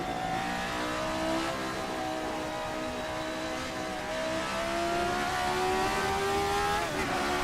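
RSS Formula 79 race car in a racing sim game, its engine loud and close throughout, pitch climbing steadily through a gear before a quick shift near the end, with no talk over it.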